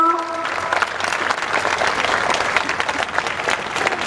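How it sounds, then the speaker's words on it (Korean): An audience at a church gathering applauds to welcome a guest history speaker, broad steady clapping from many hands after a brief tonal cue, sustained at moderate loudness. "여러분 큰 박수로 맞아주십시오"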